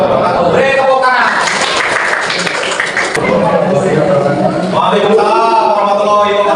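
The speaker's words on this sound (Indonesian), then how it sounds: "Beri tepuk tangan." A seventh-grade junior high classroom in Indonesia erupts in clapping, a busy patter of many hands mixed with students' voices talking and calling out over it.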